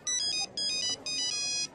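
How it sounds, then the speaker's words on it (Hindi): A mobile phone ringtone sounds in three repeated bursts of bright electronic melody, loud and close over a low background hum, with no one speaking. "अमजद का फोन है।"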